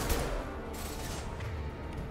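High-impact gunshot in Mass Effect 2 on the Knight Samara mission: repeated reports and booms in a steady, dense stretch of combat noise, fairly loud throughout, with no speech.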